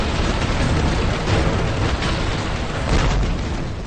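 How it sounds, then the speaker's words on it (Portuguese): A three-ton naval cannon firing, a loud sustained rumbling blast of broadband noise that fills the whole stretch, with swelling bursts and no speech over it. "Um canhão de 3 toneladas tem um coice temível. A detonação e barulho são tão grandes que até atordoa os mais experientes marinheiros."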